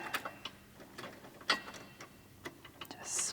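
A short socket on a short extension turns a nut while an Eagle Talon plow front mount is installed on an ATV. It gives a few faint, quiet ratcheting clicks and taps spread over a few seconds.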